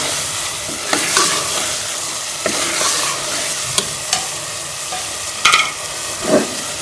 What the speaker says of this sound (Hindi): आलू को भी इसी तरह से मसाले के साथ मिक्स करके भूनों की थोड़ी देर के लिए